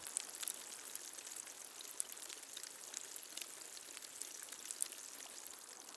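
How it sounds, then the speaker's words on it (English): Beach sand fizzes in vinegar, a dense, faint crackle of tiny bubbles popping continuously and evenly, close up and without voices. "Can you hear that popping sound and see all those bubbles on the surface?"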